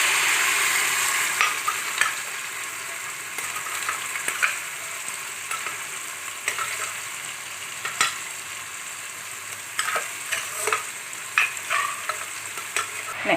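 Potatoes fry with cumin in a pan, giving a steady close sizzle broken by scraping stir strokes that come at an irregular pace, with no voices.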